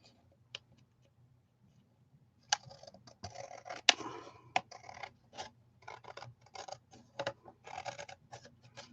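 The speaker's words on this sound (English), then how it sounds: "I'm just going to trim off the extra that's sticking out here." Scissors snip stray tape off a handmade stamped greeting card, a series of short crisp cuts and scratchy paper rustles at close range, quiet at first and then busier, with no talking.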